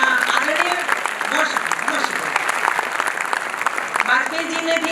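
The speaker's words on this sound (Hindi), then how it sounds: "थोड़ी सी तालियां बजा दीजिए" At a Hindi poetry gathering, the audience claps with brisk, uneven bursts while people talk and call out over the applause.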